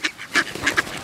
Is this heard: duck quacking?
yes